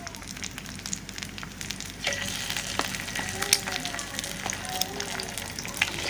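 Cimin frying in hot oil in a freshly washed baking pan, a loud continuous sizzle with crackling pops that grows busier partway through and keeps going without anyone talking.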